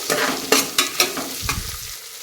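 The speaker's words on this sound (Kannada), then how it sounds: "ನೋಡಿ, ಇದಕ್ಕೆ ಅದು ಕೂಡ ಚೆನ್ನಾಗಿ ಫ್ರೈ ಆಗಬೇಕು." Onion and green chillies fry in oil and ghee for ghee rice, a short run of close spatula scrapes and taps over a crackling sizzle, loud and near with no talk.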